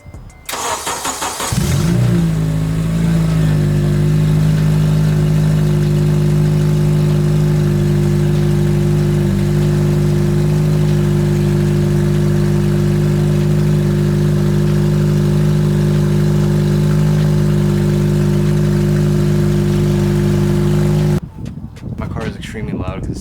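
A 2004-2008 Acura TSX engine cranks and fires, then runs loud and steady through an open header with no exhaust fitted, a deep unmuffled drone that holds for about twenty seconds before cutting off.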